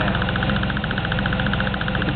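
A car engine idles up close near the upper intake manifold, with a fast, even ticking tapping over the steady running hum.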